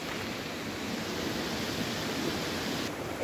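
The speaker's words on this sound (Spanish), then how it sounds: "Miren, allá está una de las cascadas." A waterfall near the Yanahaca tunnels gives a soft, steady, broadband rush heard from a distance, unbroken and with no voices over it.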